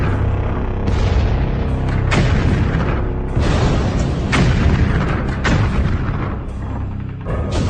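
German 88mm guns firing in wartime Sicily, a dense run of heavy booming blasts one after another at close range, loud and continuous without talk.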